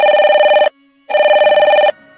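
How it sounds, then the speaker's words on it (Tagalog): A telephone bell rings loudly and close in a dark horror-story scene, two long trilling rings separated by a short silence, with no voices. "muling tumunog ang telepono"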